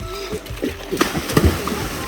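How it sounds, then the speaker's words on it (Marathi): Water splashing and sloshing in a shallow, muddy village pond or stream after someone jumps in, with several close, choppy splashes under people talking nearby. "ए सत्य वरून उड्या नको टाकू सर. पाणी कमी आहे."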